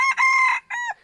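A wild junglefowl rooster gives one short, close crow in two clear bursts, shrill and harmonic, with no other sound around it.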